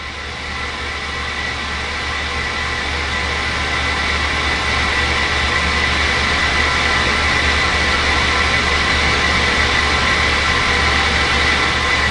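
A 2300-S spin rinse dryer spinning semiconductor wafers, a steady broadband whirring hum with constant low drone, gradually building slightly in loudness, no voices.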